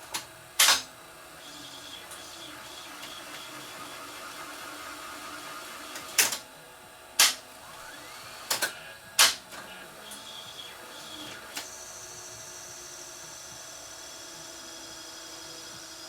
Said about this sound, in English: It detected the end of the tape, it rolled forward, but then it wound back again.